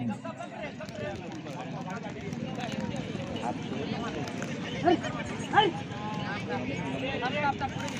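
Pair of bulls pulling a cart at speed in a bullock cart race, hooves clattering in a steady run with a busy crowd murmur underneath and a couple of sharper thuds.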